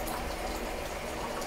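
Water runs steadily from the small tap of a tiered buffet table fountain centerpiece, a continuous close splashing flow with no talk over it.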